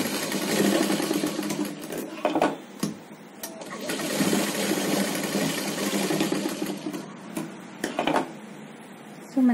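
A sewing machine runs in steady, close bursts while stitching the folded lining of a child's umbrella frock, pausing briefly between runs with small handling clicks; no one speaks.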